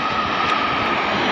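A steady, loud roar of a landing airplane's engine near an airport, continuous and close, with a broad hiss and a faint whine holding throughout.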